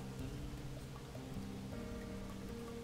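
Steady rain falling in the Dragon Creek video game, a soft continuous patter with low game music tones running underneath.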